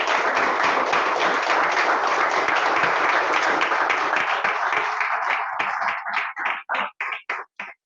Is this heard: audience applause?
yes